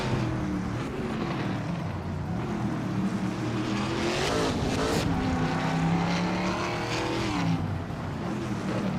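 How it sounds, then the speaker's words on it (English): A 2007 Chevrolet Lacetti races in a video game, its engine holding a steady, loud drone with gently rising and falling revs, and a brief surge of acceleration near the middle. No one speaks. "Zachariah TV is driving a 2007 Chevrolet Lacetti"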